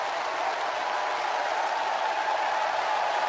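Recorded audience applause after a choir performance in Latvia plays as a steady, dense wash of clapping from a large crowd, even in level throughout with no voices.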